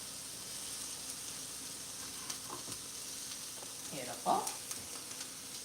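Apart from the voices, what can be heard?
peppers sautéing in a pan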